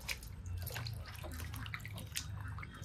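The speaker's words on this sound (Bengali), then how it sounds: "মাংস ধুয়ে বালতিতে রেখে দিচ্ছি" Water splashing and trickling steadily as pieces of goat head mutton are rinsed in a bucket, close and continuous with scattered drips and sloshes throughout.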